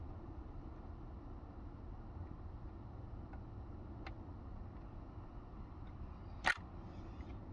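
One sharp, faint click stands out as an electrical connector is pushed home under the dash of a 2004 Mitsubishi Lancer ES, set against a quiet, steady background hum with no talk.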